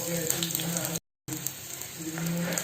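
Shallots drop into hot oil already crackling with mustard seeds for a Kerala tomato curry, giving a loud, steady frying sizzle that cuts out for a moment before resuming with bubbling pops.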